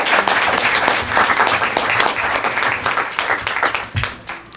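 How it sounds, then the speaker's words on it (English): Audience applause at the close of a 2016 aldermanic candidate forum in Hendersonville, Tennessee, a dense burst of clapping that carries on steadily and thins out toward the end. "Let's give everyone a quick applause"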